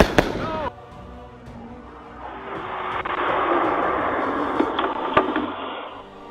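Fireworks going off outdoors in winter, with a sharp initial bang followed by crackling, whistling bursts and scattered pops layered over one another at moderate distance.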